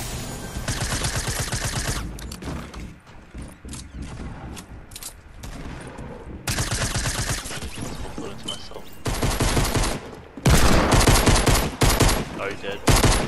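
Dense bursts of automatic gunfire and gunshots in a video game match, loud and close, coming in several heavy volleys separated by quieter stretches with mechanical clatter.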